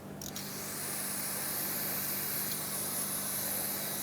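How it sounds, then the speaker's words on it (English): Brake parts cleaner hisses in one steady, continuous spray onto a rear brake caliper of a 2012-2018 Nissan Altima, close and constant after a brief start. "We're going to clean this off with some brake parts cleaner."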